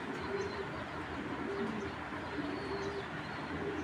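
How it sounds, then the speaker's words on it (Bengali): Imported fancy pigeons cooing softly in a fancier's loft, repeated low throaty coos at a gentle steady rhythm against faint background hiss, with no talking. "দেখেন কবুতর"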